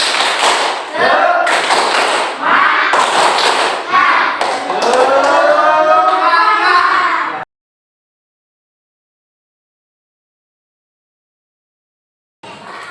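A primary school class claps together in a rhythmic chant routine, bursts of sharp unison claps mixed with children's voices chanting, loud and close, then breaking off into silence.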